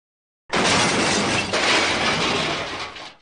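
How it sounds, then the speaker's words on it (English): A Smiler roller-coaster train crashing through a ride sign in The Smiler game, a loud sustained smash of shattering and breaking debris that starts abruptly and rumbles on for nearly three seconds. "an animation plays of a Smiler train crashing through it"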